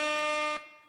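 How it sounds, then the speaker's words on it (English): A loud electronic air horn button effect blares as a single sustained, buzzy blast lasting about half a second before cutting off abruptly. "Did you hit the air horn button?"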